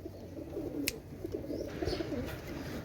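A pair of young black-eyed Pakistani imported-bloodline pigeons coo with low, murmuring rumbles, quiet and close, broken by one sharp click partway through.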